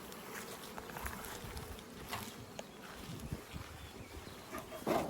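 Honey bees swarm inside and around a hive body fitted with added 12-frame boxes, their buzzing a steady, dense drone close by, with a brief louder rustle near the end.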